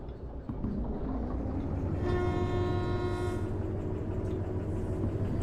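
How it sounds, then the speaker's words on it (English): A train running in the Derail Valley railway game, with a steady rumbling drone and a sustained horn-like harmonic tone sounding from about two seconds on, continuous and fairly close throughout. "that you can actually hear the train this time"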